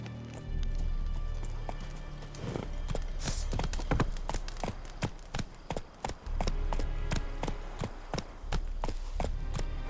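Roach, the horse in The Witcher 3, gallops in a rapid, rhythmic clip-clop of hooves over a low rumbling bed, close and steady for most of the stretch.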